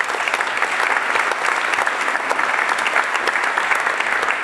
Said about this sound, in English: if that's not worth a round of applause